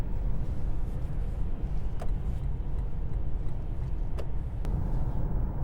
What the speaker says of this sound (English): Cruising at 65 miles per hour, the speed limit, this engine is turning, I'd say about 1400 RPM.